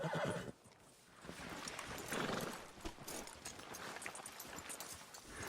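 A horse whinnies loudly in Red Dead Redemption 2, followed by steady clip-clopping hooves and soft snorts, close by with no talking.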